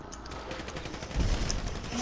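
Gunfire in the GTA video game, with bursts of rapid shots crackling steadily and a heavier thud of impacts partway through, fairly loud and without talk.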